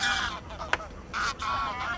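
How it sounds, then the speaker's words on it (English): Barnacle geese call from a late-summer estuary anchorage, giving short honking bursts in a loose series at moderate distance, with a sharp click partway through. "These geese, especially the barnacles, have some formidable long-distance flights ahead of them."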